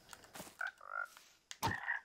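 A frog croaks in Minecraft, giving two short, close, warbling croaks separated by a brief pause, clear and alone.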